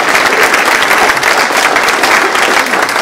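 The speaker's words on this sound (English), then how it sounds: "Give him a round of applause" A community crowd at a comedy magic show gives sustained applause, dense, steady and loud clapping that fills the room without pause.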